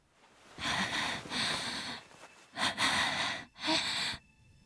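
Heavy, breathy panting from a Chaos;Child visual novel scene: several drawn-out gasping breaths, close and loud as if right at the ear, with short pauses between them and no talking.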